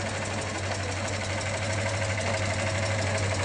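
A car engine idles steadily, a low, even hum with a faint rhythmic knock running throughout, close by and with no voices.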